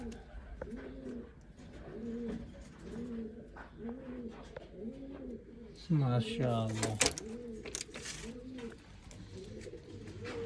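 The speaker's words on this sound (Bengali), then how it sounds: "এই হচ্ছে কবুতর" Pigeons in a loft coo in a steady series of soft, rhythmic, repeated calls close by, with a louder flurry partway through, as voices speak intermittently over them.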